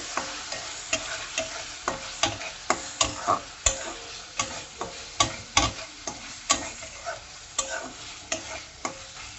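Spices for dal tadka sautéing in a pan with a little water, a soft steady sizzle under regular scraping strokes of a spoon, close and moderately loud with no voices.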